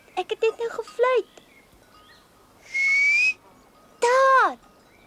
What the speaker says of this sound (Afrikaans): Ek het net nou gefluit.